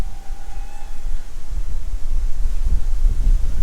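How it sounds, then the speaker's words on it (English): Strong wind gusting outdoors buffets the microphone with a loud, steady low rumble that swells and roars throughout, with no voices heard. "Gee, it is windy."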